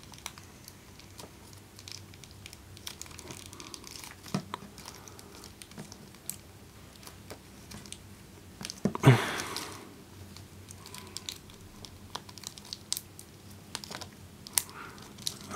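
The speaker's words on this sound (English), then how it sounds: "I'm just going to lift that up and just, pull these plastic sheets out" Small plastic protective sheets crinkle and rustle as they are pulled out of an S.H. Figuarts Kamen Rider Ghost action figure, with scattered close clicks and one louder crinkling burst midway.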